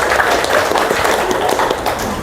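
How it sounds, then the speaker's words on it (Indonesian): A crowd of women at a community business seminar claps together, a loud, dense patter of hands sustained throughout without a break. "tepuk tangan dulu"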